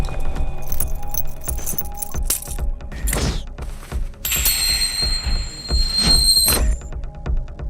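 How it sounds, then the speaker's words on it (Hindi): Car keys jangle in a busy film scene, metallic clinks and rattles coming in bursts over a dense music and effects bed, with sharp bright jingles standing out near the end. "गाड़ी की चाबी।"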